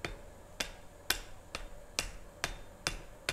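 A blacksmith's hammer strikes metal on an anvil at a forge, seven sharp ringing blows at an even, unhurried pace, fairly faint against a quiet room background.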